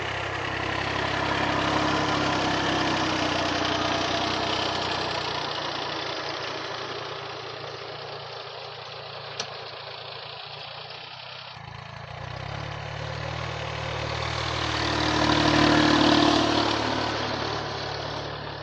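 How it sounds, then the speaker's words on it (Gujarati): A tractor engine runs steadily while driving through a four-foot-tall cotton field, a continuous mid-pitched drone that swells louder near the end. "કેવી રીતના ટ્રેક્ટર ચલાવવાનું જોવા આવી રીતના ખેડૂત ભાઈઓ"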